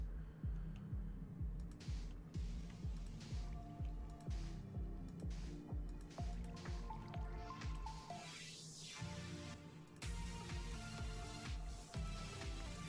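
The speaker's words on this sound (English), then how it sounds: "I'm trying to get the water here to flow properly." Water flowing through a terraformed base level in a video game, heard as a regular pattern of dripping, squelching liquid effects over soft game music, with a brief rising swell near the end and no talk.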